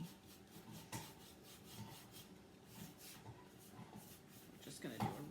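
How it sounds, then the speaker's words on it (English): A brush scrubs a rough black base coat onto a wooden primitive sign, soft rhythmic swishing and rubbing strokes, faint and close, under quiet talking. "I'm just going to quickly do a base coat of black on this"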